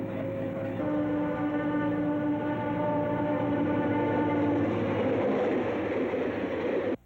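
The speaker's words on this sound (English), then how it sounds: "I'll always be haunted by train whistles, I guess." A train passes with a steady rumble and sustained horn-like tones, fading slightly before the sound cuts off; no voices are present.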